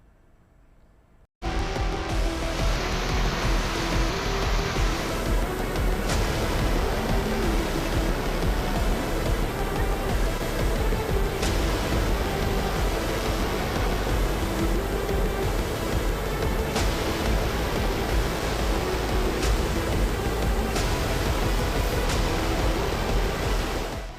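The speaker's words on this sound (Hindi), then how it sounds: "जम्मू में तवी नदी में उफान।" The flooded Tawi river in Jammu roars with a dense, steady, loud rush of churning water that runs unbroken for over twenty seconds after a brief quieter start.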